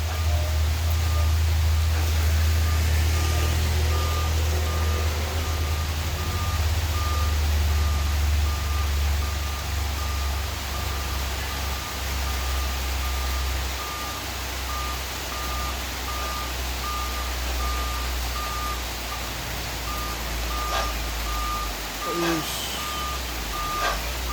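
A Mitsubishi Colt Diesel HDX truck strains up a steep incline, its loud diesel engine rumble droning steadily throughout, with a repeating reversing beep and occasional distant voices.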